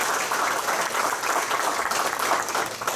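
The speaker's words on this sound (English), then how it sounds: "I'd like to give Gwen a big round of applause." A room at a college football media day breaks into a big round of applause, dense steady clapping from a crowd that carries evenly for three seconds without talk.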